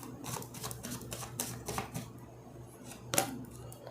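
Tarot cards being shuffled by hand, giving soft, quiet papery riffles and brushing taps with a few sharper snaps, close to the mic over low room hum.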